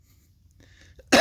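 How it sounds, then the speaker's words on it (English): After near silence with a few faint rustles, a single loud, close cough bursts out at the very end. "so I'm coughing a little bit"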